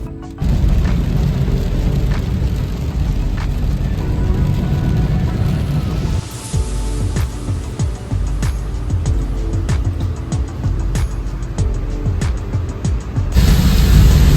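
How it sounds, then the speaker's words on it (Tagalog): Heavy rain pounding a car during a road trip from Luzon to Mindanao, a loud continuous roar of downpour and road noise with scattered drops striking the body and a louder surge near the end. "Dahil wala pa ring tigil ang malakas na buhos ng ulan"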